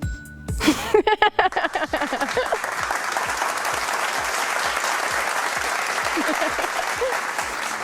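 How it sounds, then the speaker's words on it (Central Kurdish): A studio audience at a children's quiz show breaks into applause: a few sharp, separate claps at first, then dense, steady clapping that stays loud and close for several seconds with no talk over it. "چەپڵەکانتان"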